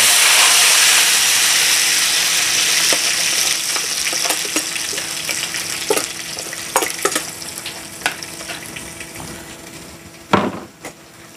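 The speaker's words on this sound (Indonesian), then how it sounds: "Okey, saya dah panaskan minyak ni tadi. Okey, saya tumis ya sahabat." Chili paste sizzles in oil that has already been heated. The loud, hissing fry starts strong and slowly settles, broken by scattered pops and sharp spatters near the end.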